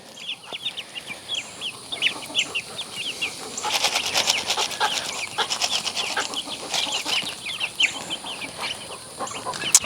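Chickens and baby chicks near a coop, with continuous high cheeping and scattered clucks, plus a brief flutter or rustle in the middle, all fairly close.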